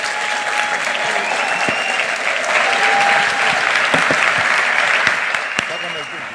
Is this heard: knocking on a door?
no